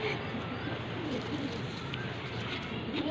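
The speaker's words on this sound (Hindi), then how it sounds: "तो गाइस ये कबूतर देखो बहुत भूखा ये आ गया" Pigeons coo softly in low, repeated throaty murmurs, close by, over a steady background hum.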